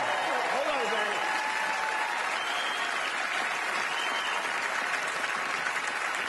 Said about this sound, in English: I know you're clapping